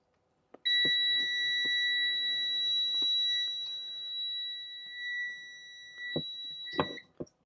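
A multimeter emits one long, steady, high-pitched beep during a resistance test, sounding clearly for about six seconds between faint clicks of the probes.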